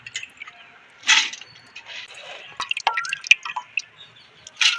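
Soaked urad dal sits in a perforated colander for vada batter, with water dripping through in intermittent drops and trickles, close by and fairly quiet, with a few louder splashy bursts.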